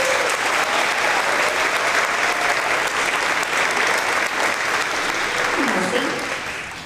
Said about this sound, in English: let's give our chorus a round of applause